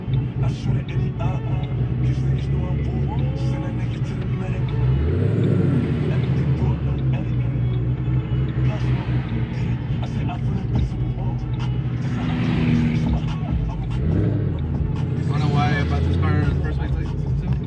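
A tuned manual car drives down a straightaway, its engine rumble steady and continuous throughout, with a couple of swells as it accelerates, while people talk over it inside.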